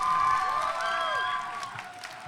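Crowd at a high school spoken word poetry event, grades 11 and 12, cheering and whooping over applause. A steady, fairly loud wash of raised voices blends with clapping throughout.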